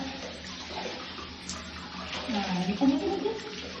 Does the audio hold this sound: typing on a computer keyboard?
no